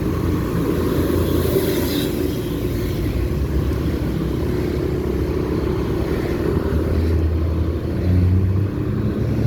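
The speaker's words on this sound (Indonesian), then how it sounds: "Arus kendaraan teman-teman terlihat lumayan cukup ramai teman-teman ya" Road traffic passing on a busy mountain valley route, a continuous low engine rumble from passing vehicles close by, steady throughout with no voices.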